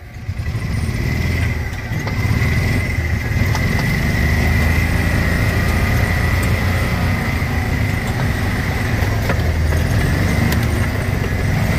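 A 1994 Club Car Carryall utility vehicle driving, a loud steady engine drone with a constant whining tone and rough rumble that continues unbroken throughout, no voices.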